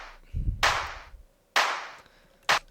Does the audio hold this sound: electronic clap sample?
yes